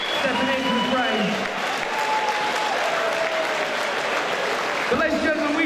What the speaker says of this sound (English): let's have a massive round of applause for Luke Worrall